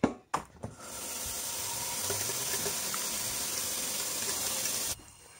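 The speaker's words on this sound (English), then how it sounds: "Nalalagyan na natin siya ng water." Water pours steadily into a cooking pot of stock seasoned with whole peppercorns and salt, a continuous splashing fill that runs loud and close for about four seconds before stopping abruptly.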